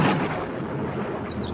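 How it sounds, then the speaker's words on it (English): Thunder from an approaching storm in a radio drama: a loud, deep rumble that opens with a heavy crack and then rolls on steadily, with no talking. "The storm is coming this way."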